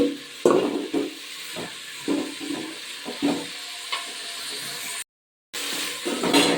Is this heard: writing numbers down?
no